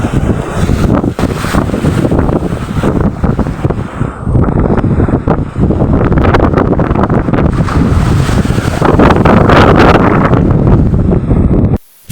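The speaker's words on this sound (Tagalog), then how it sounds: "yung hangin at saka alon lumakas na" Strong wind batters the microphone over rough seas during a northeast monsoon, with a steady roaring gust noise and wave wash filling the whole stretch before it cuts out abruptly at the end.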